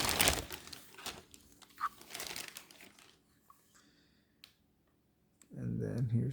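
A small plastic bag holding a Colt 1911A1 replica pistol crinkles and rustles up close during an unboxing, in irregular handling bursts with quiet gaps, and a voice is heard at times.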